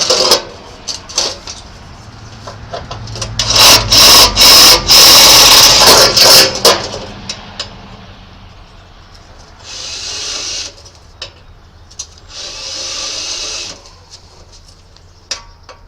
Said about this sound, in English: So we're just going to drill holes in it so we got some more to spot weld.